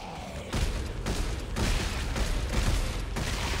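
Repeated gunfire from the video game Dead Space 3 bursts out in loud, roughly evenly spaced blasts, each a broad booming crack over constant game noise.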